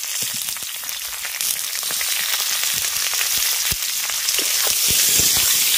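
Chopped raw green tomato added to potatoes already frying in a pan, giving a continuous crackling sizzle with scattered sharp pops that grows slightly louder and denser over several seconds, close and without voices.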